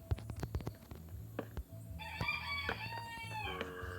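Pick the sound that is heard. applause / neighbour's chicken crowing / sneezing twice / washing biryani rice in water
neighbour's chicken crowing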